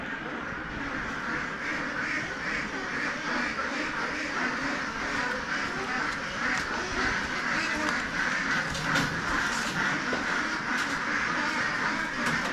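Pateros ducks on a duck farm quack in a dense, continuous flock chorus, many birds calling at once over a steady outdoor background.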